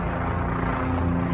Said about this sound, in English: there's a plane up above, so please excuse the noise.